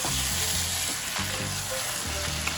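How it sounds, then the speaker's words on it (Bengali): Chicken pieces with yogurt, ginger and slit green chillies frying in a pan for Kashmiri chicken masala, a continuous close sizzle with occasional stirring scrapes and no talking. "এবার আমি মাংসটাকে ভালো করে আমি কষাবো।"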